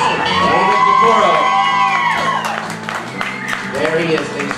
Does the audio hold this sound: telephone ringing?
no